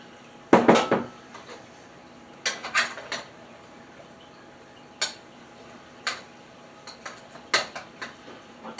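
Chopped onions going into a pot for mushroom soup, heard as several sharp clattering knocks of utensil against cookware, spaced irregularly over a quiet kitchen background.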